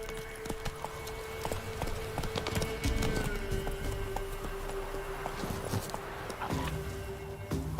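Roach, the horse in The Witcher 3, trots along with steady rhythmic clip-clop hoofbeats against a low droning game background, with a brief whinny-like tone near the start.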